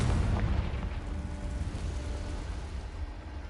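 A Confringo blasting spell in Hogwarts Legacy sets off a loud, rumbling explosion with a heavy low boom that rolls on and slowly decays over a few seconds, with no voices present.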